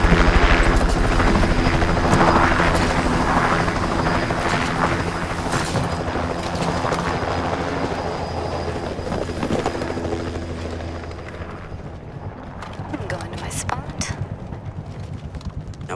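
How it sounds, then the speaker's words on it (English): A helicopter in the Rainbow Six Siege video game churns with loud, steady rotor thumping that gradually fades, while players talk over it and scattered game sounds and thuds appear toward the end. "Let's vote for a helicopter drop."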